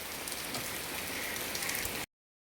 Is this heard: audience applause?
no